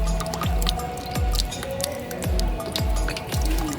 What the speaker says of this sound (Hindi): कपड़े में से पानी धीरे धीरे, बिल्कुल धीरे, कपड़े जैसे पानी सोखता है ना